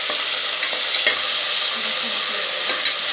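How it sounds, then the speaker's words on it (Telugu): Garlic paste fries in a pan with onions for a spicy mutton gravy curry, a loud continuous sizzle with stirring scrapes close up. "వెల్లుల్లి వాసన పోయేంత వరకు వాటిని అలా ఇలా తిప్పుకుంటూ వేపుకోవాలి దాన్ని."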